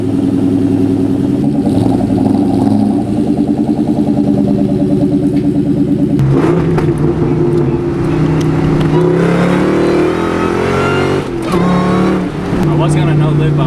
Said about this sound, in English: I'm going to do a little cold start for you guys.